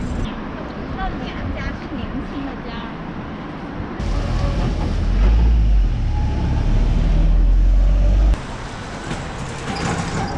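Busy road traffic flows past near a crowded Guangzhou train station, a steady wash of engines and roadway noise with a heavier vehicle rumbling close by midway, and people talking underneath.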